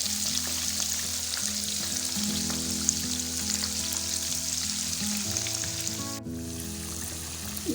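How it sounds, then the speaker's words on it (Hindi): Dhaka-style crispy fried fish sizzles in hot oil, a loud continuous close-up crackle with a faint tonal hum beneath and no speech. "जी तो मज़ेदार डाका फ्राइड फ़िश हमारी फ्राई हो गई है।"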